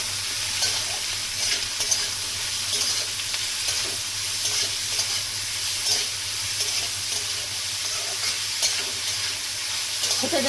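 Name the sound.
vegetables stir-frying in a pan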